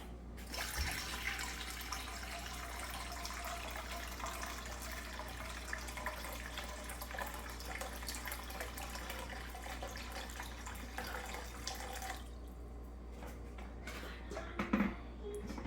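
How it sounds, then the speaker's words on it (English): Steady water runs and splashes into a bowl for cooking pasta, a continuous gushing that stops near the end, followed by a faint clink. "we have to pour a good amount of water inside the bowl"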